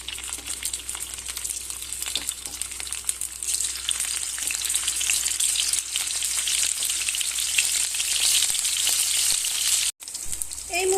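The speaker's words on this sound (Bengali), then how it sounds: "এইভাবে বাকি মুইঠাগুলো আমি ভেজে নেব।" Chital fish muitha dumplings sizzle continuously in hot frying oil, a close, bright crackling hiss that holds steady throughout with faint scraping and stirring, and a brief dropout near the end.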